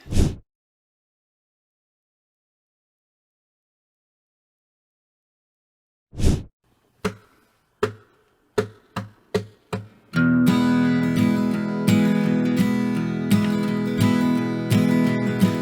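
Acoustic guitar playing: a single strum, a long silence, then a series of sharp, accelerating count-in hits before a steady, full strummed rhythm kicks in, close and loud with no voice.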